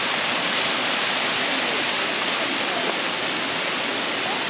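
Small waterfall on a Hawaiian stream, a steady, dense rush of falling water heard close and alone, continuous and even throughout with no voices.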